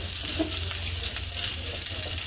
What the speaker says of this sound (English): Flatten the rice to do wok hei.